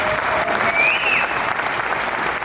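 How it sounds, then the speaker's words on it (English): Steady, dense applause from an audience of Mustang owners at the Carlisle Ford Nationals, continuous and fairly loud throughout with a faint whistle rising briefly in the middle. "Let's hear a round of applause for all of our owners."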